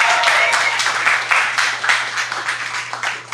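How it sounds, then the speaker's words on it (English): An audience at a restaurant catering event applauds vigorously, dense hand-clapping filling the room steadily before tapering slightly toward the end, with no voices over it. "I want you to clap vigorously because I don't have a fan up here"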